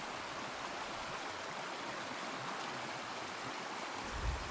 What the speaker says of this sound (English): There's a lot of water come out of these hills.